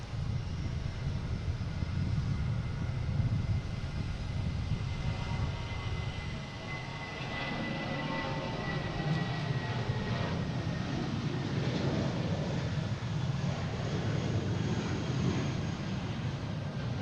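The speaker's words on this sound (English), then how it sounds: "Next taking off is American Airlines," An American Airlines Airbus A319 takes off from Boston Logan International Airport, heard as a steady, broad engine roar from a distance that holds at an even loudness for the whole stretch.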